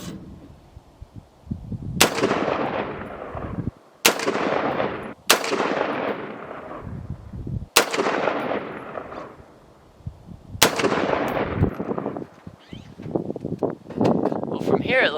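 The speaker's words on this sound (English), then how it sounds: "I'm going to shoot another 5 and see where we're at." Palmetto State Armory PSA AR-15 rifle firing five loud, sharp shots outdoors at irregular intervals, each with a long rolling echo tail, and faint speech between the shots.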